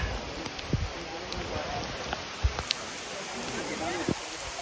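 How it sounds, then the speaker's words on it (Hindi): Steady rain falls in Nainital as a constant close hiss, with scattered drips and taps and faint voices in the background. "बारिश हो रही है"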